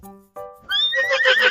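A horse whinnies loudly and alone for about a second after brief tonal lead-in sounds, part of a children's animal-sounds guessing game.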